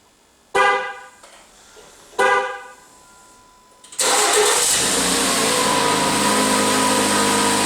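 Jeep Compass started by remote autostart: two loud horn beeps first, then the engine cranks and catches, settling into a steady, loud idle that runs to the end, with no voices.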